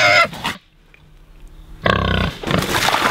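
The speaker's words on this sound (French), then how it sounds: "Les cochons bouffent comme des porcs." Pigs feeding on a slop of bran and whey, a loud close burst of grunting and squealing that breaks off, leaves a short quiet gap with faint noise, then resumes as steady heavy chomping and grunts.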